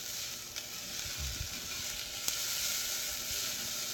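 Onions sautéing in a pan give a steady, fairly loud sizzle and crackle from start to end, with a few soft stirring knocks and brief pops along the way, and no voices.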